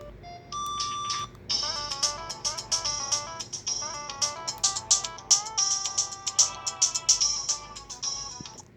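Mobile phone ringtone sounding a bright electronic tune of quick chiming notes after a brief steady tone, fairly close and alone without talk.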